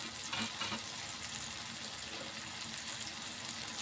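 Tomatoes softening in a hot pan while cooking a masala dish, a steady soft sizzle and faint frying hiss with occasional stirring, continuous and fairly quiet.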